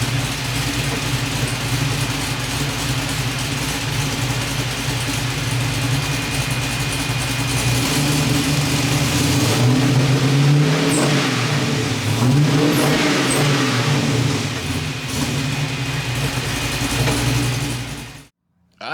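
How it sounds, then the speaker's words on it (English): The LS-swapped 1973 Chevrolet Nova with a Magnaflow exhaust rumbles loudly at close range, holding a steady idle before revving up and down a few times, then cutting off abruptly. "Magnaflow exhaust is installed on the car."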